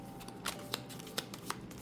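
Tarot cards being shuffled by hand: soft, quiet riffling bursts recur every quarter second or so over a faint background hiss, with no talking.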